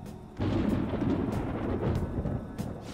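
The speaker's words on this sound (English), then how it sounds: "It sounds like it's going to rain." Deep, rolling thunder in Persona 5 Royal, a storm building before rain: a low rumble swells in after a quiet start, then lingers loud and sustained, with a few sharper cracks breaking through.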